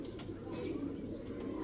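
A pigeon gives soft, low cooing close by, a faint, murmuring call that runs on steadily with a few lighter chirps over a quiet background.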